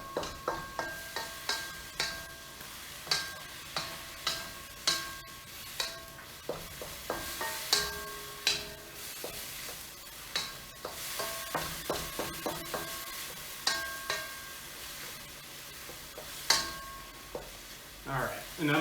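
Mapo tofu ingredients sizzle and fry in a hot pan while a utensil stirs and folds them, producing a steady run of sharp scraping clacks over a soft frying hiss.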